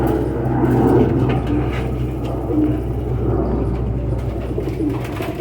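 A Faqeer Gul pigeon coos softly amid low, steady background rumble and ambient noise, a faint warbling murmur without clear breaks.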